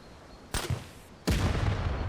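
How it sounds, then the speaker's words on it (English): Big explosion in the survival video game VEIN: a sharp blast burst followed a moment later by a louder, sustained explosive roar that rumbles on to the end. "This will be the biggest explosion we've seen so far"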